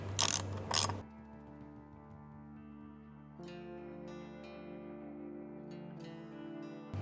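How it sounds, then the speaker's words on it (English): Nuts are snugged down with a ratchet while a light bar goes onto a 2021+ Ford Bronco, with a few quick clicking bursts at the start, then a steady hum and faint clicks. "Now we're going to go ahead and snug these two nuts down"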